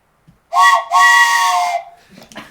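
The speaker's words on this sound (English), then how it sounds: "The morning air is pierced with the sound of a train whistle as the train prepares to leave" A steam train whistle sound effect blows before the train departs, a loud close two-part blast with a short first toot and then a long sustained wail, fading into faint hissing.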